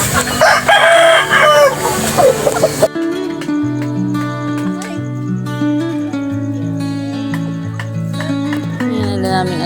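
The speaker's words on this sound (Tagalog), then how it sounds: "Yan na naming alagang manok." Pet chickens at a rural countryside home, a rooster crowing loudly up close with clucking over the first few seconds, after which music takes over.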